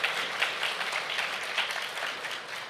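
A live podcast audience applauds briefly to vote on a scenario, a thin, moderately faint patter of clapping from a modest crowd that stays fairly even across the moment.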